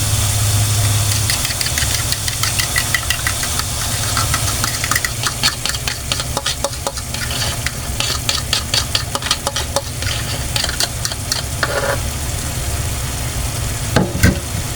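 An egg cooks with sliced bitter gourd in a hot pan, a steady sizzle and crackle of frying with scattered clicks and scraping from stirring throughout, no talk.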